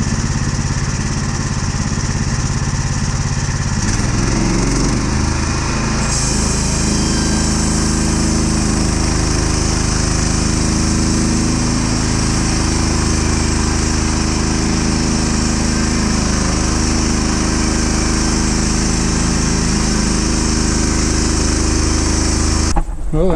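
A sawmill engine drones loudly and steadily while a log is slabbed into 2x8 boards, the rough motor hum holding nearly unchanged for the whole stretch with a brief shift partway through.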